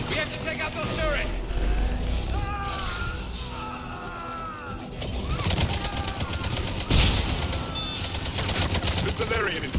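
Cerberus turrets fire in Mass Effect 3, rapid gunfire rattling amid a dense battle mix with voices talking over the shooting throughout.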